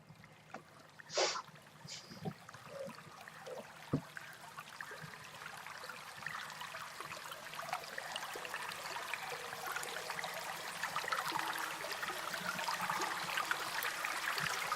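Water flows and trickles steadily for meditation, beginning quietly with a few drips and splashes, then building into a fuller, continuous babble that grows louder toward the end, with no one speaking.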